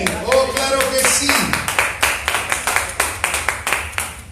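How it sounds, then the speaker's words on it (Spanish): A church congregation claps in unison with a steady beat of about five sharp claps per second, loud and close, after a short burst of voices and a falling tone at the start. "Esos 5 aplausos debieron de haber sonado como 50, ¿cierto?"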